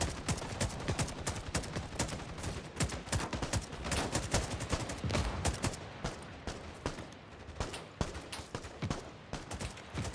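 Rapid gunfire in the Cold War tactical FPS video game '83, a dense continuous stream of sharp close shots and bursts with overlapping cracks, loud throughout.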